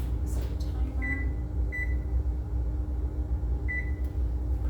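A kitchen oven runs with a steady low hum after its timer is set, and three short high beeps sound at a close, moderate level.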